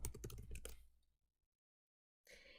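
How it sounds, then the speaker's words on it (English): Rapid, close computer keyboard typing clatters along as a Social Security number is entered, then stops, and a second short burst of keystrokes follows after a pause. "I'm going to type in Social Security number."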